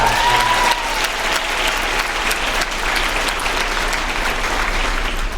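Sustained round of applause from a school audience at a student writers' event, honoring a speaker's mother; dense steady clapping fills the whole stretch at even loudness with no speech over it.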